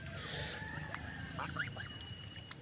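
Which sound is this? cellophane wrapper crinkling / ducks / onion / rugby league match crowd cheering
ducks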